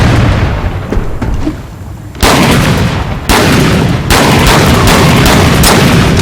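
Orc weapon firing with a wide spread in the video game Eternal Crusade, heard as loud, dense bursts of gunfire and booming blasts that start and stop in several heavy volleys, with a brief lull between them.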